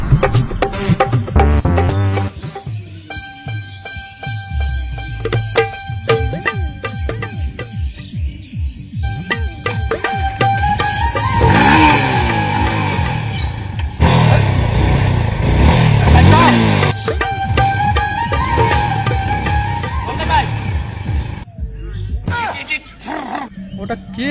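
A motorcycle engine revs and roars in repeated bursts, loud and close, with rising and falling pitch, mixed with other overlapping sounds and tonal noise.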